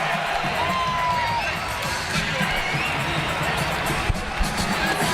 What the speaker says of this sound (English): As he makes his move across the floor, the roar will continue.